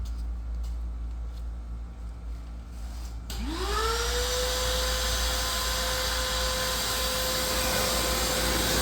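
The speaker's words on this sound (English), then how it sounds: "this is when I just vacuum everything up and hope that I got it right" A vacuum cleaner starts up and winds to a steady, loud whine and drone that holds, following a background rumble, while cleaning car seats.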